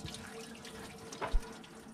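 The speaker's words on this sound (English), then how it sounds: "we can probably turn the water off now" Water runs steadily from a hose while the radiator of a 1974 Dodge W200 truck is flushed, with a brief splash and thud near the end and no talk.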